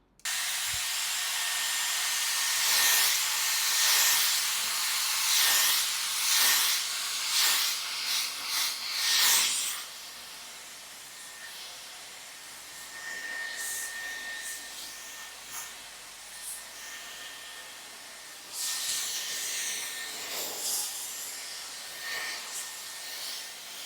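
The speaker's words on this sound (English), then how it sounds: "But if you want your roots to be lifted, you can use a blow dry brush." A blow dry brush runs close by on the roots of a small bio base hair topper, giving a steady airy hiss with repeated brushing swells and short pauses throughout.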